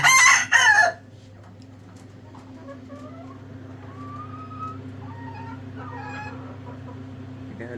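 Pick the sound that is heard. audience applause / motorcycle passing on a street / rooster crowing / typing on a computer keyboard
rooster crowing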